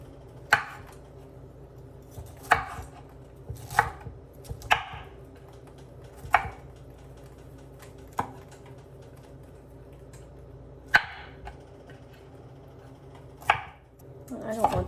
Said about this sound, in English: So just cut into bite-sized pieces.